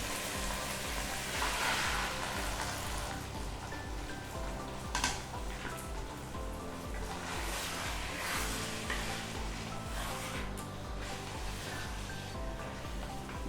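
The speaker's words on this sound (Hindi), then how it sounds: "दो 3 मिनट तक भूनिएगा हाई फ्लेम पे" Chicken for Hyderabadi dum ka murgh frying in a pan over a high flame, a dense, continuous loud sizzle with occasional stirring scrapes, no voices.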